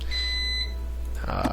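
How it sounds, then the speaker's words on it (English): Electronic beeping during a Crusader Kings II game session: a thin high tone held for about half a second at moderate volume over a low steady hum, then a voice starts speaking near the end. "Sorry about that beeping."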